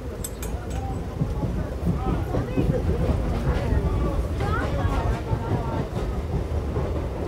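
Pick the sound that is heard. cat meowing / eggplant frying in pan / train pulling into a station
train pulling into a station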